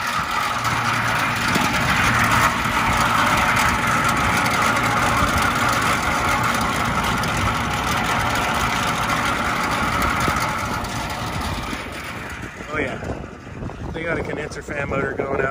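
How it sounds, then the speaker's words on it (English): A failing AC condenser fan motor runs with a loud, harsh, continuous roar and rattle, close to the microphone, with wind noise and a voice briefly heard over it. "Wow, something sounds terrible over here."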